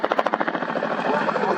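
Boeing Chinook twin-rotor helicopter doing a nose-down quick stop at an air show, heavy rhythmic blade slap thudding loudly, then blurring into a dense roar as it slows.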